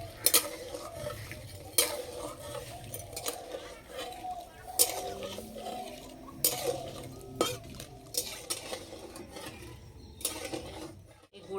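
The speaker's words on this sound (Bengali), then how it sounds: "রসটা ভালো করে ফুটিয়ে নেব।" Date palm jaggery syrup with water and small cardamom simmers in a pot, a soft bubbling and sizzle under repeated scraping and stirring clatter of a utensil against the pan, close by with a voice speaking.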